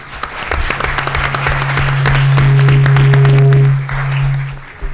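An audience at a county council candidate forum claps loudly and steadily for several seconds with a low steady hum underneath, and the applause thins out near the end.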